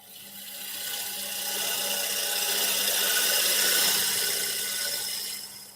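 A woodturning cut on a lathe taking a final pass over a surface left with bandsaw marks, heard as a steady broadband scraping hiss that swells and fades, close and alone over a low motor hum.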